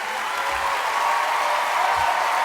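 Audience applause fills a large hall after Lady Gaga's speech, a steady, dense wash of many hands clapping at once, loud and continuous throughout with no voices on top.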